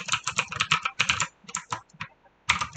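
Fingers type on a computer keyboard while entering a spreadsheet formula, crisp close key clicks in quick bursts separated by short pauses.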